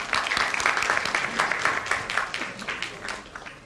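An audience at a school Annual Day event applauds steadily, a dense wash of many hands clapping at close range that holds for several seconds without pause.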